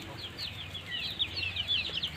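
Local chickens roaming on a small poultry farm in Barpeta, Assam, giving a run of soft, repeated clucks at close to moderate distance over a quiet background.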